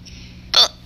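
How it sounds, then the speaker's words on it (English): A person hiccups twice in quick succession, close and abrupt, with faint game noise behind. "Oh my god, hiccups!"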